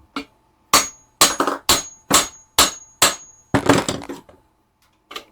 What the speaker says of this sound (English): Give it a couple more hammer blows.